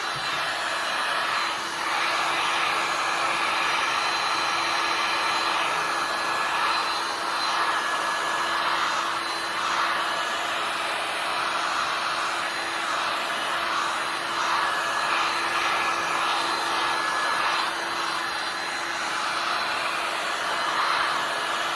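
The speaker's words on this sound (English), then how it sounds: "I'm gonna take my heat gun, I'm gonna dry the paint" A steady, loud electric heat gun whirs continuously for the whole stretch, a constant hot-air hiss as it dries paint on a wooden sign without pause.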